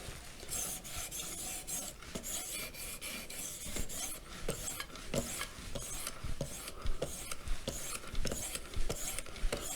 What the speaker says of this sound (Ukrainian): Чутися, як навіть звук такий приємний, чутися, що воно точить.